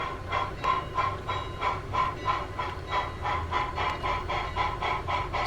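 Rhythmic chuffing bursts of a steam locomotive hauling an excursion train puff in a steady beat, with hissing steam and rumbling rails underneath, at moderate distance.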